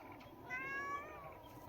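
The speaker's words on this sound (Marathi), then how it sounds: "आणि आमच्या संग मांजर आहे" A single cat meows once, soft and slightly drawn out, against a quiet background.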